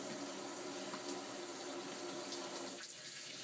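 Tap water runs steadily into a sink during a cat's bath, a continuous close splashing flow that eases slightly near the end.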